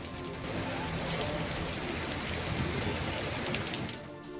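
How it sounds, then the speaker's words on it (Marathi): Unseasonal rain falls in Bhandara district, a dense, continuous wash of rainfall heard close and steady, fading slightly at the very end. "भंडारा जिल्ह्यात पावसाचं आगमन झालंय"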